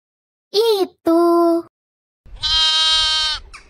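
A goat in the video game Sakura School Simulator gives three loud, close bleats: two short wavering cries, then a longer sustained one with a brief tail.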